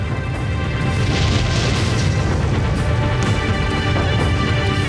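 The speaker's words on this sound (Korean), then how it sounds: "가연성 화학물질 통들이 폭발하기 시작했다" Drums of flammable chemicals bursting inside a burning factory, a dense roar of fire punctuated by repeated booming blasts and crashes, loud and sustained throughout.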